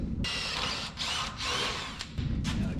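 Near and loud, a handheld power drill bores into a homemade coil-over mount for a 1967 Toyota Stout, its high whine running in several bursts separated by short pauses, with no voices.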